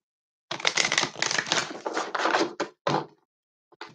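Tarot cards being shuffled by hand, a series of close, crisp riffling bursts with brief pauses between them, then a final short shuffle after a gap.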